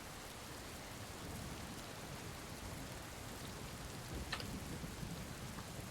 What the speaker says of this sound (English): Rain continues to pound down.